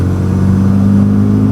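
Renault Megane RS, a 2012–2013 car with over 100,000 km, its engine revving in a loud, steady, close-up growl with a strong low hum.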